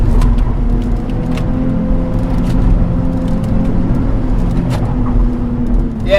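A 2009 Nissan 370Z holds a steady engine drone throughout a timed run, loud and close with no talk, its pitch shifting slightly near the end.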